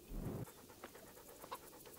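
A guard dog panting in a video game, a quick rhythmic series of short breathy pants close by, starting with a louder burst and then fading to quieter huffs, with no talking.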